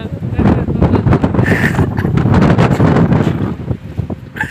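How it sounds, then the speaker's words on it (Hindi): Strong wind buffets the microphone outdoors in Shimla during cold weather, a loud continuous low rumble with gusting swells, and a voice talks over it throughout. "इतनी हवा चल रही है,"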